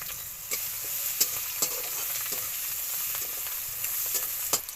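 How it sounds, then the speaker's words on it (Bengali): Two bay leaves and dried chilli frying in hot oil for a cabbage dish with prawns and peas, a steady loud sizzle with occasional sharp crackles and pops throughout. "এবারে দেবো আমি দুটো তেজপাতা তারপরে দেব শুকনো ঝাল"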